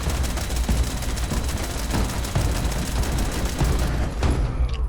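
Rapid gunfire in the video game Fallout 76 crackles densely and continuously, loud and close, with bursts overlapping throughout and a brief tail-off at the end.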